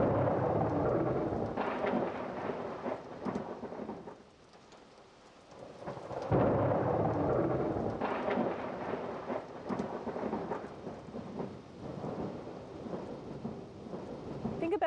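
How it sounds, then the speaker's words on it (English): Thunder rolls and rumbles through a rainy thunderstorm, swelling and fading in long waves over steady rainfall, with one quieter lull in the middle. "First you see the lightning, and then you hear the thunder"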